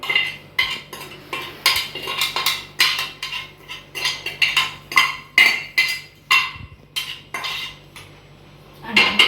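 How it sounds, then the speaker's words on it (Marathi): A spoon beats appe batter with tempering in a bowl, giving rapid, loud, close clinks and scrapes in an uneven rhythm throughout, then a brief pause near the end, with no speech. "त्याला चांगल्या प्रकारे तुम्हाला मिक्स करायचं आहे बघू शकता किती भारी बॅटर मिक्स होतोय"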